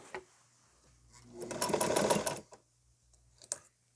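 A sewing machine runs a seam through bulky layered fabric on a scrappy skirt in one rapid, close burst of stitching lasting about a second, framed by quiet handling clicks before and after.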